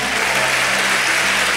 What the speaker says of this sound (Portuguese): Gente, um aplauso para a mãe do Rodolfo